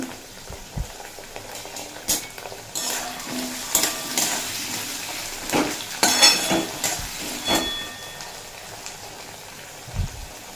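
Vegetables for a Bengali mixed-veg ghonto, with grated ginger, being stirred in a frying pan: a steady soft sizzle with repeated scraping strokes of a spoon against the pan, moderately close, no voices.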